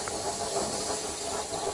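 Steady, loud hissing of steam from an idling engine, a continuous breathy rush with no voices.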